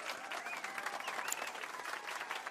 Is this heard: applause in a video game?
yes